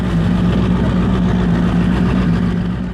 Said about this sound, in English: I stuck a V8 engine into a personal watercraft.